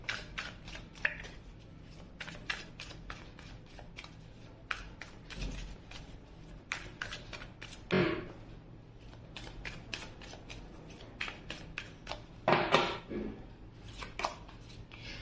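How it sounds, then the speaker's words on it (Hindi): Tarot cards are shuffled by hand in a long run of rapid, rhythmic papery snaps and riffles, close by, with a couple of louder shuffling bursts and no talk. "अब हम इस साइड के लिए भी कार्ड करेंगे शफल"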